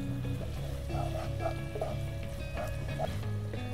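Ground masala paste fries in a pan over raised heat for a Bengali dish, giving a steady low sizzle with soft stirring scrapes throughout, close by and without talk.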